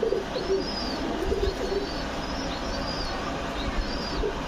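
A Shalik pigeon in a loft coos softly in low, repeated notes over steady background noise, with faint chirps from other birds.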